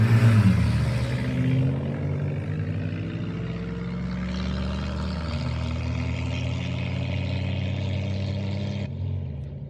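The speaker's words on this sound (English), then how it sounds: "Davy Jacobs's Wednesday morning return run sets the record for Vintage 4 flathead-blown gas competition coupe" Vintage blown flathead gas competition coupe on a record run across the Bonneville salt flats, a sustained loud engine drone with a gear-change pitch drop partway through, holding steady before cutting off near the end.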